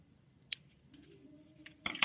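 Scissors snipping off extra yarn from a plate weaving, with a quick close click early and another sharp snip at the end, in an otherwise quiet setting.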